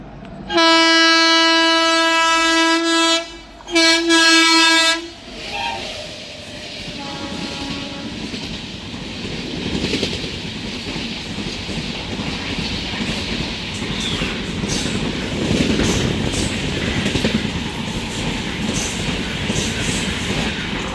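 A train crossing on a single-line railway track past a halted Tambaram–Tirunelveli summer special express, opening with loud, drawn-out horn blasts, then a steady close rumble and rattle of wagons rolling by.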